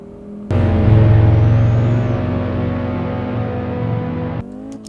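A 1994 Audi Sport Quattro engine starts abruptly and holds a loud, steady, buzzing note for about four seconds before cutting off sharply, with no talk.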